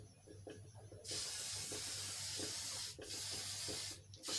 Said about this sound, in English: You can be generous with the oil, the spray oil.